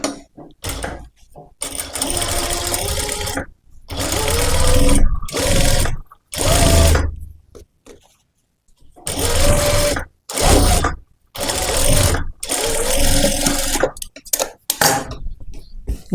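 Sewing machine stitching the neckline of a princess-cut boat-neck blouse, with bursts of rapid mechanical running separated by pauses, close and moderately loud.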